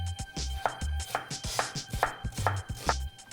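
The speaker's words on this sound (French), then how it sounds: "On va couper aussi l'oignon." A knife chops an onion on a board in a home kitchen, a series of crisp, fairly regular thuds up close, roughly two or three per second, with no talk.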